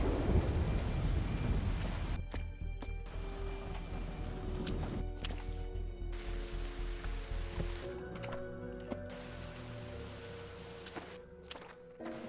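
A video-game thunderstorm: steady heavy rain hisses throughout, with deep thunder rumbles and soft musical tones woven underneath at a moderate level.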